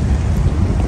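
Steady rain falling outdoors in the open while black mushrooms are gathered, a dense, even wash of drops with low rumbling underneath, loud and close with no pauses.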